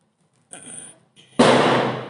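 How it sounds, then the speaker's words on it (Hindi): Firecrackers set off outside by children during Diwali in a village: a crackling, hissing burst starts first, then a sharp, loud bang follows about a second later and trails off into a noisy decay. "और भैया बालक पटाखे छोड़ रहे हैं बाहर"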